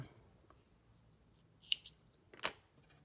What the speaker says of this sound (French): Une maille en l'air de plus et on coupe notre fil.